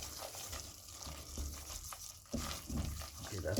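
A flour roux for white sauce being stirred continuously in a pan, with a faint sizzle and soft scraping spoon sounds that come and go in quiet, uneven strokes.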